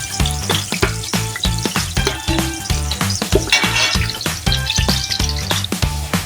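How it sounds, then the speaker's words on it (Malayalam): Cashews fried in oil with raisins added for Kozhikodan biryani sizzle steadily up close, a busy crackle of bubbling oil with repeated rhythmic scraping of a spoon stirring the pan. "കശുവണ്ടി വറുത്ത് കോരിയിട്ട് അതിൻ്റെ അകത്ത് മുന്തിരിയും കൂടെ ഇടാം"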